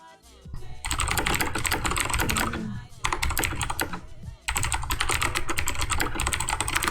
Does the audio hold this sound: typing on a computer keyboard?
yes